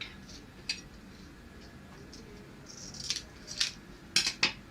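Scissors trimming a paper strip during a children's paper craft, a few soft, crisp snips near the end over a faint, quiet background.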